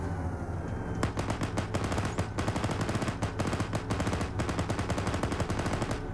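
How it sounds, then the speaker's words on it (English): Sustained .50 cal machine gun fire in a military video game, a steady stream of sharp rapid bursts over a dense background of other gunfire and battle noise, loud and close for several seconds. "50 cal's firing."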